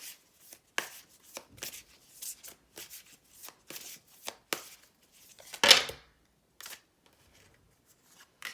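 Tarot cards are shuffled and handled close by, producing soft crisp riffles and flicks in short irregular bursts, then a louder slap as a card is set down, followed by quiet.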